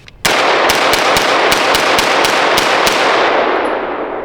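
A B&T GHM9 short barrel rifle firing Winchester white box ammunition lets off about ten sharp, loud shots at a quick, slightly uneven pace, each crack ringing out before the next, then fading at the end.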